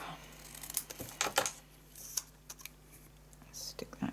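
Scissors snip through card stock for handmade card making, a few short crisp cuts and paper rustles close by, quiet, with soft movement between cuts.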